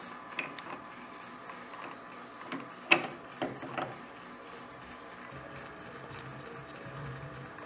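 A ratchet threading a homemade spark plug compression adapter into a side-by-side engine, giving faint clicking and a few sharp metallic knocks at close range over a quiet background.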